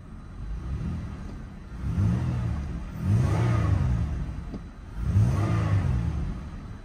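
A 1999 Buick Regal LS engine runs nearby, rising in three steady rev swells over a continuous mid-pitched hum and rumble.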